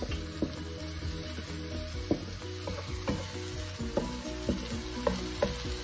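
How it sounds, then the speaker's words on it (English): Pureed tomatoes hitting a pan of frying onions, a steady close sizzle with rhythmic stirring knocks and scrapes recurring about once a second, no voices. "And now I'll add these pureed 2 large tomatoes."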